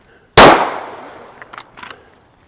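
A single sharp handgun shot cracks out close and loud, then decays over a second with a faint echo and small clicks afterward.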